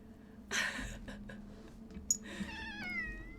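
A house cat meows near the microphone during a Fallout 1 gaming session, several short chirps and calls followed by a longer, wavering meow at the end, over a low steady hum.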